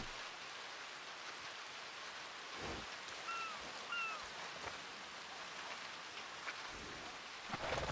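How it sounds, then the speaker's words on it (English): Steady video game rain hisses softly in the background, with a few faint bird chirps and occasional light thuds over the continuous patter. "This is actually a very fitting sort of rain."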